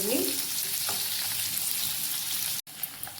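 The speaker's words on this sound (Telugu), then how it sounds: "ఎర్రగడ్డలు. ఈ బాగా ఫ్రై కావాలి." Onions fry in a pan for perugu pachadi, a dense, even hiss with a couple of faint stirring touches, cutting out briefly near the end before the sizzle picks up again.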